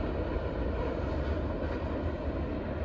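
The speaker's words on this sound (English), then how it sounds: "That train was flat out booking." A train passes at high speed close by, a loud continuous broadband roar and rush of rail noise that holds steady throughout.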